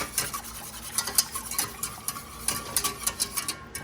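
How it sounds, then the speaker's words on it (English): A whisk beats gravy in a pot in quick rhythmic strokes, with light metallic taps against the sides, steady and moderately close, and no talking. "I switched from that spoon to a whisk"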